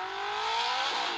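A Ferrari engine revs, its rising tone climbing steadily over a brief, moderately distant pass with no voices.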